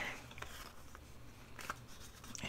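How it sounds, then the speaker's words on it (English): Scissors or a blade trimming the edge of printed vellum or a vintage book page, giving a few faint, short snipping strokes spread across a quiet room background. "Then I need to cut the edge."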